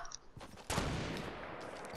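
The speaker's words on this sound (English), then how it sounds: "Yeah, I hear gunshots." Gunfire in a multiplayer shooter video game: a sustained burst of loud shots begins after a brief pause, with a faint earlier pop, and continues without break to the end, with no voices over it.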